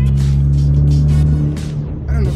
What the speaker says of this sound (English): I don't know if you guys can hear that turbo, but it's significantly louder than it normally was